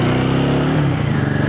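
A Royal Enfield Guerrilla 450 motorcycle engine pulls hard under acceleration, a loud, steady, close-up drone with rising harmonics and no pauses.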